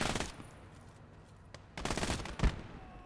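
Bursts of heavy Dushka machine gun fire in the Gates of Hell World War II game, two rapid volleys separated by a quieter gap, with a sharp impact near the end, moderately distant and with no talking.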